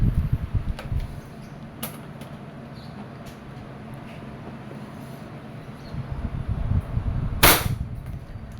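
Airsoft WE Glock 19 Gen 4 pistol fired during chronograph testing, a few sharp cracks standing out, one loud burst near the end, over steady low background noise.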